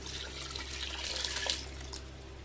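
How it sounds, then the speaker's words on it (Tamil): Water is poured into a pot for cooking seeraga samba rice in mutton biryani, a faint, steady splashing trickle over a low background hum, heard alone. "இப்போ நம்ம அரிசிக்கு தகுந்த தண்ணி ஊற்றிடலாம்"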